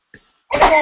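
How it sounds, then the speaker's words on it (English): A single sharp sneeze bursts out after a brief faint intake of breath, close and loud. "excuse me, I'm going to sneeze, and I'm going to sneeze again"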